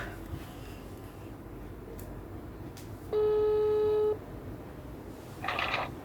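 A single steady telephone tone sounds for about one second while a call is being placed, heard over quiet room noise with a brief rustle just after.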